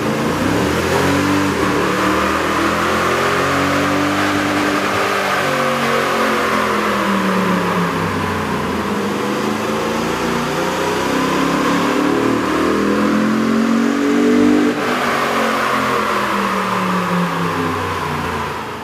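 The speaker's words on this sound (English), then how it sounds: "we ran the vehicle on the dyno to test the sound comparison versus the stock intake" A Toyota Tundra's 4.6-liter engine with a K&N cold air intake revs steadily on a dyno, a loud, continuous drone whose pitch swells and falls in slow sweeps for nearly twenty seconds.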